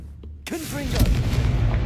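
The Confringo fire spell explodes in the Hogwarts Legacy video game with a sudden loud, deep blast and a rumbling, crackling tail, while a voice calls out over the start of the burst.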